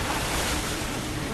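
Steady rushing water fills the scene as a character rides down a water slide in Resident Evil 6, a continuous loud broadband wash with no breaks.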